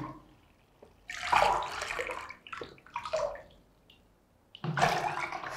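Water pours from cups into a big jug in several separate splashing bursts with quiet gaps between them. Each pour is close and moderately loud.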